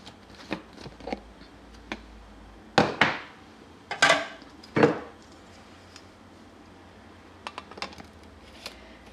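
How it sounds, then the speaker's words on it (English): A NutriBullet blender's blade top being unscrewed from the cup after blending a green smoothie: a few sharp plastic clicks and scraping twists, clustered in the middle, with quiet room tone around them. "So you unscrew the blade top."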